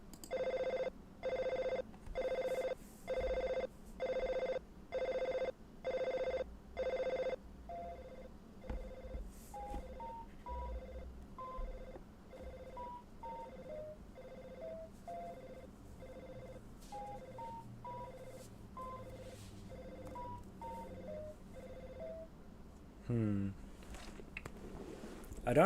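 Telephone in the horror fangame Five Nights At Tubby-Land rings in a regular series of loud, evenly spaced bursts, then gives way to a run of stepped dialing tones and a closing click, with a faint voice murmuring underneath.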